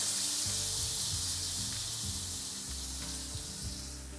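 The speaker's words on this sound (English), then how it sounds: "I'm going to heat up my sauce that we've made already" A tomato, onion and garlic sauce warming in a pan gives off a continuous soft sizzle, close and steady, with faint low hum beneath and no speech.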